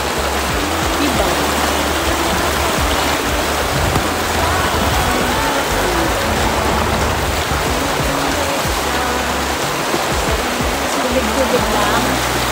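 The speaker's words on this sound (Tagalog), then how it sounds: "Tubig-tubig lang." Flowing stream water rushes in a continuous loud, dense wash close by, broadband and unbroken for the whole stretch.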